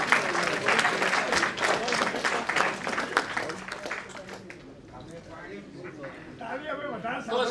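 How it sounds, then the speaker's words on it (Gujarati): An audience at a discourse on medieval Gujarati poetry breaks into dense, sustained clapping that fades after a few seconds, and a voice then resumes speaking. "હું આજે તાળી પાડવા માટે તાળી ઉઘરાવવા માટે કહેતો નથી"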